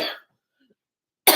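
A single sharp cough bursts out close and loud near the end, after a short spoken trail-off and a stretch of near silence.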